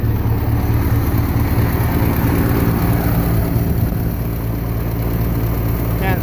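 A Massey Ferguson MF65 tractor with a worn, smoking engine that is bubbling oil from the exhaust idles close by, a loud, steady low chugging rumble running without pause.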